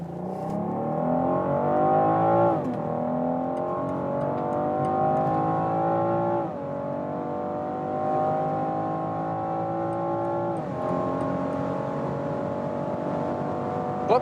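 A BMW M440i or Audi S5 accelerates hard up to 200 km/h, the engine drone climbing steadily in pitch through several gear shifts with brief dips between, loud and continuous from inside the car.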